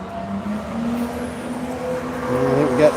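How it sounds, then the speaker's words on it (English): A BMW race car pulls away on a track at a Tire Rack One Lap of America event, its engine droning loudly and climbing in pitch toward the end. "I think we got Jeff taking off in Bowie's BMW"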